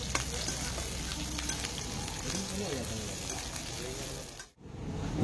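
Chopped onion with dried and fresh chillies sizzling in hot oil in a pan, a steady crackling hiss with occasional stirring scrapes, briefly cut off near the end.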